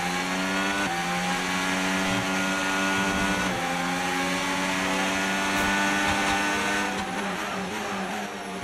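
Simulated 2025 Formula 1 race car engine from the F1 25 video game, a steady high-pitched whine with many stacked harmonics that holds throughout, shifting pitch briefly near the middle and again toward the end, loud and alone.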